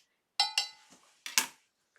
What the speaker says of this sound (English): I'm stirring this up well.